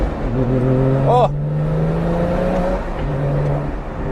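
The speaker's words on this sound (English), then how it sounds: "That engine sounds so beautiful. It has a little rumble in there as well." Car engine rumbling steadily while driving with the windows open, a loud, continuous low drone that holds for several seconds, with a brief higher chirp partway through.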